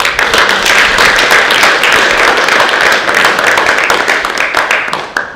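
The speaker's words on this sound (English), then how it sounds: "we must be in a position to give a very huge clap to Makueni County and Nandi County" Loud, dense applause from an audience at a county government benchmarking event in Kenya, continuous and close, holding steady for several seconds before tapering slightly at the end.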